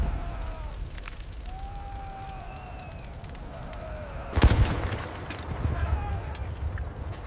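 A loud, sharp explosion bursts out partway through, followed by a rumbling boom, over a noisy battle backdrop with faint whistling tones, as bombardment tears through an ancient monastery.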